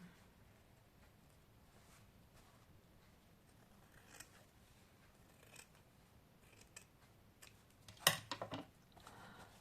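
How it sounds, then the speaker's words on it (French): Scissors snip a square out of paper, faint and close with small scattered clicks, then a brief louder run of cuts near the end. "Alors, on découpe. Je vais découper mon carré déjà."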